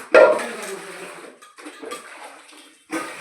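Dishes, pots and utensils being washed by hand: close splashing water with clattering metal, a loud burst at the start, a softer middle stretch and another splash near the end.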